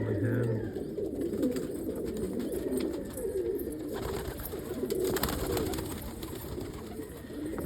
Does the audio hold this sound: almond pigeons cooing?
yes